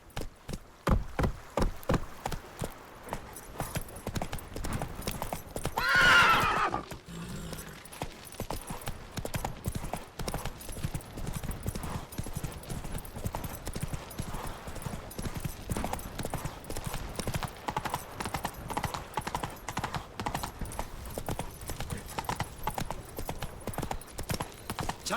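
Roach the horse in The Witcher 3 gallops with rapid, rhythmic hoofbeats that run on continuously, close and prominent, with a brief whinny or rushing swell early on and a voice speaking now and then.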